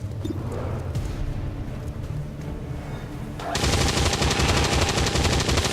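Sustained automatic gunfire in XCOM 2: War of the Chosen, a dense rattling stream under game sounds that jumps to a louder, harsher barrage partway through.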